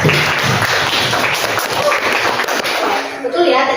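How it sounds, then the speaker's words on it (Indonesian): A classroom of students claps for their classmates, a dense, continuous burst of applause lasting a few seconds that tapers off at the end, with children's voices mixed in. "Oke, tepuk tangan untuk teman kalian."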